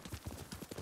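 Horse hooves clip-clopping in the video game Ghost of Tsushima, a quick rhythmic series of soft thuds at close range, steady and unbroken, with no talk over it.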